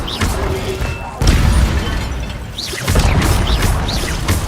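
An Incendio fire spell cast in Hogwarts Legacy: loud, booming whooshes of flame in two main bursts, with crackling and short rising magical tones over the rumble.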